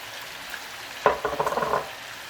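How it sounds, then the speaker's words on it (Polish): Onions sizzling and frying in a hot pan for bigos, a soft steady crackle that jumps louder as something is stirred or added partway through. "Teraz się smaży. I dodajemy cebulę jeszcze na sam koniec."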